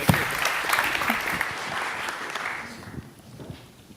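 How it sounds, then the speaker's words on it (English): Audience applause at a startup pitch event, a dense wash of clapping that fades out toward the end. "Let's get a round of applause."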